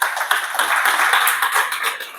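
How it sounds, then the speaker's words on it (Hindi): An audience at a DXN business meeting applauds in a short burst of dense, hand-clapping noise that is fairly loud and steady before it fades slightly. "सब लोग के लिए जोरदार ताली हो पड़ा।"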